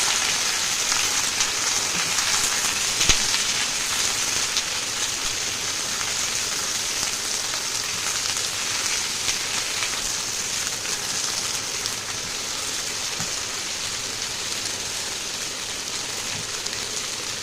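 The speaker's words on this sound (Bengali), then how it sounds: "অন্য কিছু সবজি, যেটা হচ্ছে বেগুন আর আলু। তো এবার ভালো করে এগুলোও ভেজে নেব।" Eggplant and potato fry in a pan with a constant, even hiss of oil, like soft rain. It stays fairly loud and unchanging throughout, with no voices.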